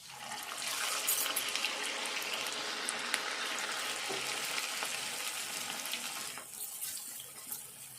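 Shredded cabbage fritters, Telangana-style garelu, frying in a kadai of hot oil, giving a steady, dense sizzle and crackle that holds close and even throughout, with no voices.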